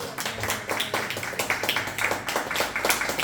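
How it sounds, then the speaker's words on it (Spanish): Church congregation clapping together in a steady, rhythmic beat, many hands striking in unison at a brisk tempo, moderately loud in an indoor worship service with no speech over it. "Dale un fuerte aplauso al Señor"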